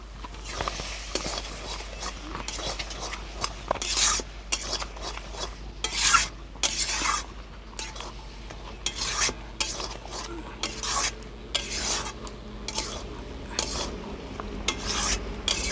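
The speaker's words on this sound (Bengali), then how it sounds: "বেটে রাখা গরম মশলা দিয়ে দেবো দিয়ে একটু নেড়ে চেড়ে দেবো" Banana flower curry with ground garam masala being stirred in a pan, heard as uneven rasping, scraping strokes of a spoon against the pan over a low sizzle, close and moderately quiet, with no one speaking.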